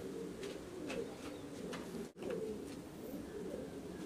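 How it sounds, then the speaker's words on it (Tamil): A Moorhead fancy pigeon coos in soft, low, rhythmic phrases, heard close by and steady with no talking. "இந்த புறாவுக்கு பேர் மூர்ஹெட்."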